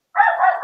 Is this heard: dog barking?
yes